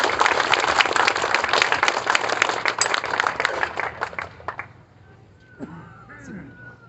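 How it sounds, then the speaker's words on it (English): A crowd at a Superman statue rededication ceremony in Metropolis, Illinois claps for police, sheriff and fire department members in a dense burst of applause that fades out after several seconds, followed by a voice speaking. "let's give them a round of applause"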